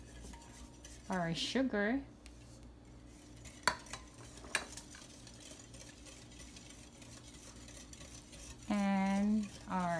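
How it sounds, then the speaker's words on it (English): Dry ingredients for a young coconut buko pie are slowly mixed in a bowl, with soft scraping and a couple of light clinks of a utensil against the side, while a voice speaks briefly at the start and end. "Then we'll slowly mix in the dry ingredients"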